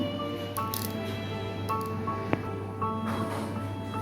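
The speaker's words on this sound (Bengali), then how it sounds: "পুরোটা এবার একসাথে মেখে নেব মশলার সাথে" Hands knead mashed raw banana with turmeric, cumin, chili powder, sugar, ginger and green chili for kofta, giving soft, intermittent squishes over a steady low hum, with one sharp click midway.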